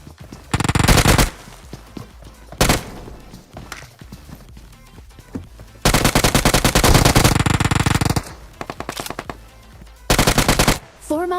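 Loud automatic gunfire from a machine gun in the PUBG Mobile battle royale game, coming in several hard bursts of rapid shots separated by short pauses.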